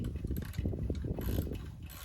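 A socket wrench ratchets back and forth on the front fork of a Honda ATC200 ES Big Red three-wheeler, a close run of quick clicking strokes filling the whole short stretch without any speech.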